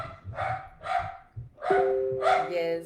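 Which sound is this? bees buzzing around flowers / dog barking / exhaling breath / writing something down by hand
dog barking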